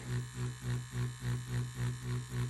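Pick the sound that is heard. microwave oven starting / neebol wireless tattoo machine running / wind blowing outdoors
neebol wireless tattoo machine running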